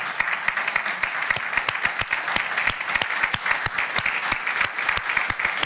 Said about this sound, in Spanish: Y en este aplauso representamos a todos los que sirven, trabajan, se esfuerzan.